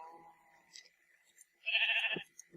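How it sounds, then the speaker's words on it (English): Sheep in the video game Minecraft give a short, fairly loud bleat, with a couple of quieter game sounds before it and two soft thuds right after. "might as well get the sheep while I'm at it"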